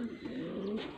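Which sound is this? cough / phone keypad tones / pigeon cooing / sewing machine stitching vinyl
pigeon cooing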